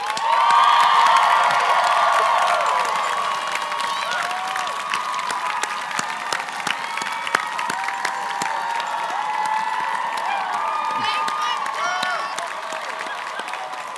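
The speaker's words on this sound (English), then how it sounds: "please give your family, friends, and loved ones a great round of applause" At a 2017 college commencement ceremony, graduates give a large round of applause that swells with cheers and whoops at first, then settles into steady, reverberant clapping in a big hall.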